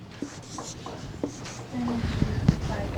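Short strokes of writing on a board during a chemistry lecture: scattered scratchy taps and squeaks, close by, in an irregular rhythm with faint room noise.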